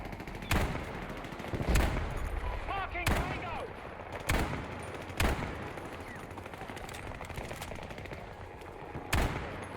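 Repeated bursts of AK5C rifle fire in Battlefield 2042, about seven loud sharp reports spaced a second or two apart over a busy battle din, with someone speaking between shots.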